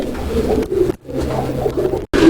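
A single Budapest pigeon coos close by in a fancy pigeon farm, giving low, throaty calls in short repeated bursts with brief pauses between them.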